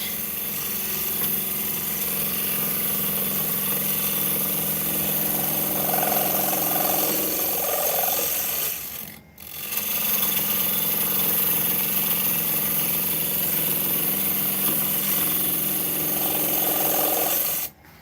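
A wood lathe end-grain turning a spinning top mounted on a glued dowel, giving a loud, steady motor hum and rough cutting drone with a brief drop in the middle before resuming, and no speech.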